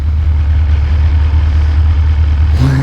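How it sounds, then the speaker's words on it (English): A BMW S1000RR motorcycle idles close by, a loud, steady low throb with a rough, even pulse continuing throughout, and no one speaking. "Watch how it's idling"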